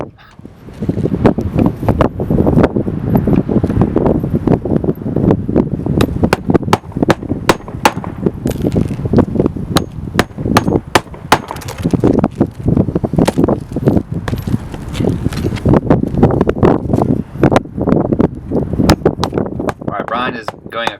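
Gusty wind buffets the microphone continuously on a shingle roof during repair work, mixed with rustling and sharp tapping clicks throughout.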